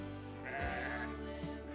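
A sheep bleats once, fairly close, on a grazed derelict brickworks site on the coast, and the call stands alone over a steady outdoor wash of background noise.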